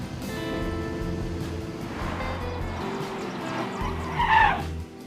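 A convertible car driving away in the TV show House M.D., a rumbling engine with low pulsing revs and road noise, rising briefly near the end before fading.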